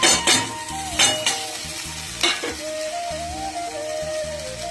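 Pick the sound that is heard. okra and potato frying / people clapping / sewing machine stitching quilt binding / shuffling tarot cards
okra and potato frying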